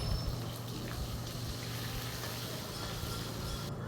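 Onions frying in a pan for a jackfruit and prawn curry, giving a steady, even bubbling sizzle with a low hiss throughout, close and moderately quiet, with no talking.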